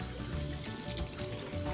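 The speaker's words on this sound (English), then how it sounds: "before we prepare our dish, we'll wash our hands for 20 seconds" Hands being washed with soap under running water at a kitchen sink before cooking, a steady close splashing and water flow that continues throughout without pause.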